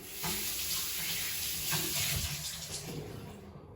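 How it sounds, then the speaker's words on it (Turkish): Running tap water pours steadily while an ingredient for a cheese and egg dish is rinsed under it, a continuous close splashing rush that eases slightly toward the end. "Şimdi ürünü yıkıyorum."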